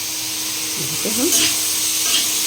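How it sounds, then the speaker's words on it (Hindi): Tomatoes fry with spices in a pan, giving a continuous sizzle with a few faint stirring scrapes mid-clip. "टमाटर को भून रहे हैं जैसे"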